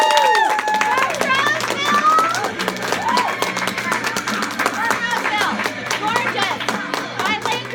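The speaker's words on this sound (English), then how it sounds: "Let's stand up and applaud her for coming to share her story with us." An audience at a sales meeting stands and applauds, producing a steady, loud wash of many hands clapping with scattered voices and cheers over it.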